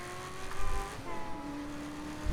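A car drifting in the video game Saints Row 3 gives a steady engine drone with tonal whine, rising and shifting as it slides, ending in a sudden loud burst; moderately loud and close, with no talking.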